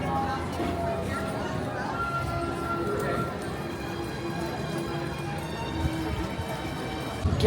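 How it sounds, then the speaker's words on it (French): Horse hooves clip-clop on Main Street at Disneyland California, a steady close clatter that carries on under crowd murmur and nearby talking. "Et là-bas, il y avait un petit cheval aussi."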